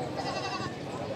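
A goat bleats close by, one wavering nasal cry filling the whole moment.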